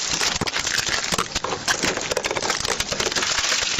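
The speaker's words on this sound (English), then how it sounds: "break the window and take her out" A car window is smashed during a police arrest, giving a loud, continuous, close crunching and crackling of glass that fills the whole stretch with no talk.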